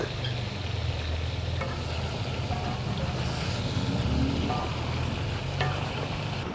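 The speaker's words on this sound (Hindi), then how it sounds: "यहाँ पे डालने वाले अदरक" Ginger drops into chicken karahi frying in a pan, Charsi style from Peshawar. A steady, close sizzle with a low rumble runs throughout, with faint scraping stirs and no talking.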